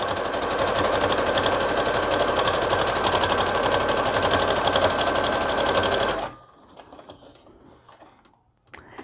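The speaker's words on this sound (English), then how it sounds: "And I'm just gonna backstitch on that." A sewing machine runs fast and continuously while stitching a hooded towel, a loud rapid mechanical chatter lasting about six seconds before stopping, followed by quieter handling clicks and rustles.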